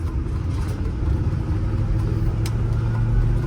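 A 1999 Chevy G3500 Express cargo van on the road, a steady low engine and road rumble heard from inside the cab, continuous and fairly loud with no talk.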